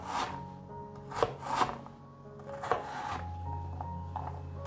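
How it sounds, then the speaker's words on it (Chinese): A knife dices potato on a cutting board, giving a few distinct chopping thumps and scraping rubs at an uneven pace, close and moderately loud with no voices. "换一个方向，把马铃薯切成小丁。"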